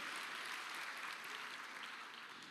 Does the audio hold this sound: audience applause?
yes